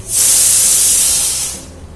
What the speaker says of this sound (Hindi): ये मेरा दलिया बन रहा है यहाँ पे, तो कुकर की सीटी आ रही है